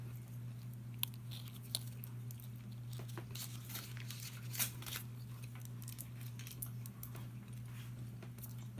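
Someone chews Starburst candy close to the mic, with soft, irregular sticky crunches and crinkles over a steady low hum.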